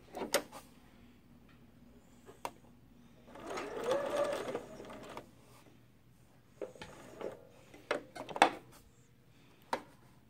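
Bernina Activa 130 sewing machine stitching in short intermittent bursts, one longer run of needle whirring among quiet pauses and small mechanical clicks, close and fairly soft.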